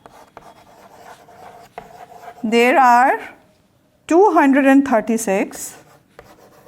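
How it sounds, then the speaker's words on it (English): Writing on a classroom board during a Class III subtraction maths lesson, with soft scratchy rubbing strokes heard between and beneath a teacher's loud, close speech. "So I am going to write on the board"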